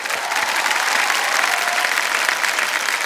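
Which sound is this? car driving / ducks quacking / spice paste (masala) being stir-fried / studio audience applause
studio audience applause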